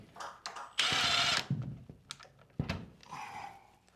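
A power driver whirs in short bursts as a screw goes in to mount a wired motion detector, a loud run of about half a second followed by briefer clicks and a second burst, close up with no talk.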